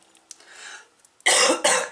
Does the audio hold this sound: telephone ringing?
no